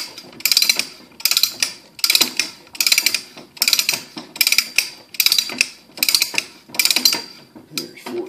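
A hand reamer cranked in quarter turns to take a millimeter or two off a part, giving about eleven short bursts of metallic ratcheting and scraping in a steady rhythm, close and fairly loud, with no talk.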